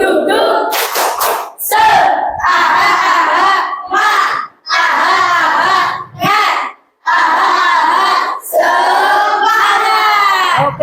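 A group of children at a school gathering does a spirit clap chant, shouting rhythmic syllables together with bursts of hand claps in repeated loud phrases separated by short pauses.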